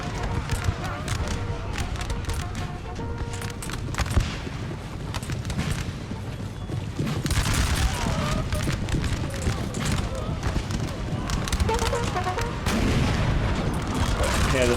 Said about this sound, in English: Yeah, they're firing scatter shot.